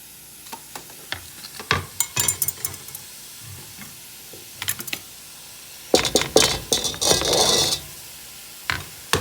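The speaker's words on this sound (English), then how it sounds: "You'll want to stir and continue to crumble up the meat" Ground meat and onions being stirred and crumbled in a pan, close scraping and clicking of a utensil in scattered bursts over a soft sizzle, with a louder, denser stretch of scraping midway.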